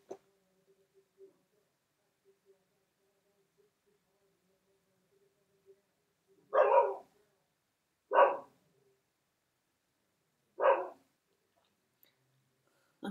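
A dog named Khaleesi barks outside wanting to be let in, three separate muffled woofs spaced a couple of seconds apart, moderately distant and faint, with long quiet gaps between them.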